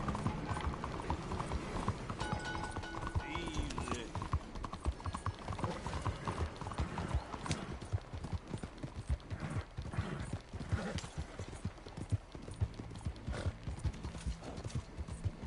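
Horse hooves clip-clop in a steady, quick running rhythm in Red Dead Redemption 2, on the streets of Saint Denis. A faint neigh comes through, and the hoofbeats stay loud and continuous throughout.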